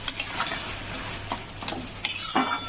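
A spoon scrapes and stirs through spicy sea crab curry with potatoes in a pan, giving a few short, close scraping strokes over a soft sizzle.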